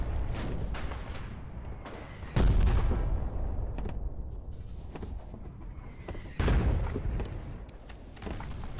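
In the war video game Foxhole, grenade explosions land as two loud, sudden booms a few seconds apart, with rumbling battlefield noise continuing between them.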